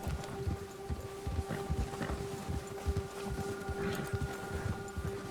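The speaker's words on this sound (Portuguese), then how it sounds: "Ah, o cavalo." Horse hooves clip-clop at a steady trotting rhythm in Red Dead Redemption 2, close and moderately loud, running under a sustained musical tone and light wind.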